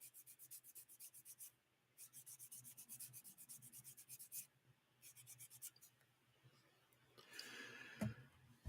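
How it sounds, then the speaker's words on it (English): A sanding sponge rubs rapidly back and forth over a small model part, making a close, dry, rhythmic rasping with brief pauses between strokes, ending in a heavier scuffing sound. "I'm new to sanding sponges after avoiding them for years."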